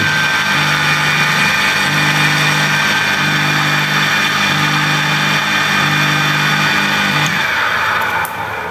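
Electric household water pump, its bearing newly replaced, hums smoothly and steadily at close range for several seconds before the sound cuts off near the end. Nobody speaks.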